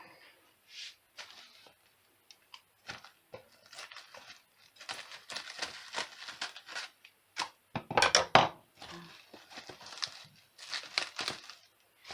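Plastic foil is handled over radish sprouts, giving scattered crinkles and soft rustles. They start faint and sparse and grow busier and louder toward the end, with no talking.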